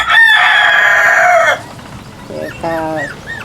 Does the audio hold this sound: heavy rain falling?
no